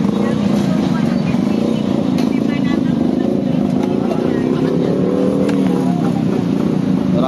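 Road traffic with cars and motorcycles rolls past steadily and close by, engines droning and revving under a constant murmur of crowd chatter from a busy market.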